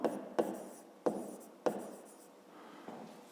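A pen writes in a fifth-grade maths exercise book, several short scratchy strokes, each starting with a sharp tap and fading, close up with pauses between.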